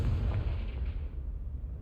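A Confringo fire spell explodes in the Hogwarts Legacy video game: a single heavy, close boom that rolls and fades out over under two seconds.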